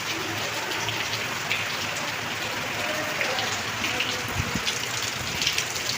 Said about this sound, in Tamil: பயங்கரமாக மழை பெய்யுது